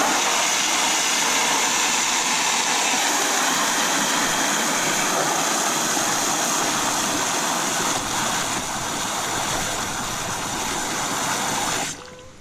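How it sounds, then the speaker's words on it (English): A regular garden hose fitted with a standard sprayer nozzle sprays water in a steady, loud, broadband hiss that runs unbroken for about twelve seconds and then cuts off abruptly. "Use a regular garden hose and sprayer. I used the regular nozzle for 1 minute and watch what it does."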